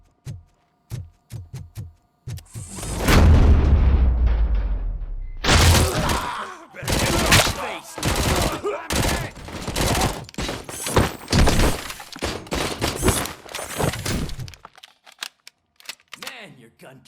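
Loud gunfire bursts from RoboCop: Rogue City, a sustained heavy salvo followed by rapid repeated shots in close succession, with shattering impacts and a few faint voices between volleys.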